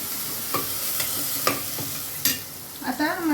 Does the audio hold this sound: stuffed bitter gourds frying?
yes